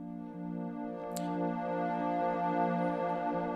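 A synthesizer patch built in Massive for an ambient song sustains a rich, steady harmonic drone that swells slightly in loudness, with one brief bright click near the start. It plays alone with no voices.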